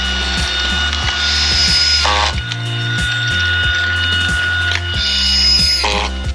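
A screw gun whirs and ratchets, then drives screws into composite decking boards without pre-drilling, with harsh grinding bursts, twice in succession, close and loud.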